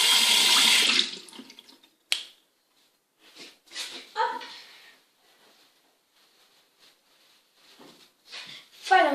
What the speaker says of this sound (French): Je vais me rincer les dents.